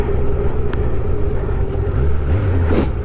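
A Suzuki GSX 600F motorcycle engine rumbles steadily up close, its pitch rising and dropping as the rider changes gear, with a continuous low drone throughout.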